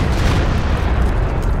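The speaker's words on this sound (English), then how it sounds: "Firing mortar. This is gonna be bloody loud." The Sturmtiger's heavy mortar in Company of Heroes 2 lets out a deep, loud, rumbling boom that fills the whole moment without letup.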